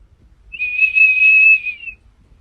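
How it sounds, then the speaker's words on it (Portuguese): A single high, pure whistle tone from an ultrasonic dog whistle rises in, holds steady for about a second and a half, then fades, with no other sound around it. "Apresento o apito ultrassônico para cães."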